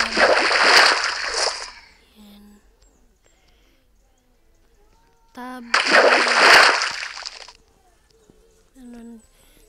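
Water runs from a bathroom tap in two loud bursts of splashing and gushing, each about two seconds long, separated by quiet, with faint squeaks in between.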